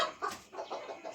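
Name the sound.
roosters clucking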